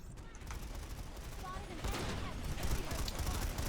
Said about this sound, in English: we see some EMP nades going off